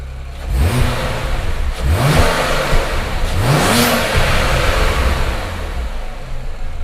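BMW N54 335i engine with a Chinese 17T hybrid turbo on its first start, revved in neutral in three rising bursts that fall back between them, loud and close, running rough.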